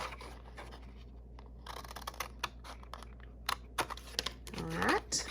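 Scissors cut a square out of paper for a craft box, giving close, quiet snips and paper rustles in uneven bursts over a faint steady background hum.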